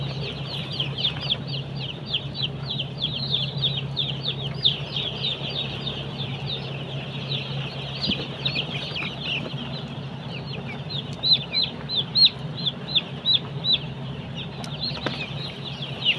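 Broiler chickens in a pen cluck and peep constantly, many birds at once in a busy chorus, with occasional wing flaps over a low steady hum.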